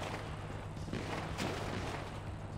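A musket fired in the game GTA 5 roleplay lets out a dull, booming report or two, set against a noisy, rumbling background.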